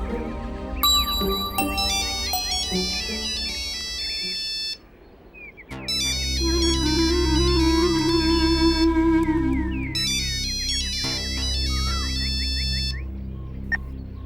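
A mobile phone's melodic ringtone plays in repeating bursts of bright chiming notes, briefly pausing before starting again over a low, steady musical drone.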